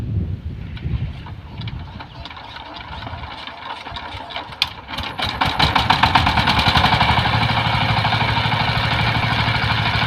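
A Saifin 16 hp power tiller with 18 blades ploughs a field; after a quieter, windy start its engine revs up into a loud, steady, rapidly pulsing chug that holds to the end.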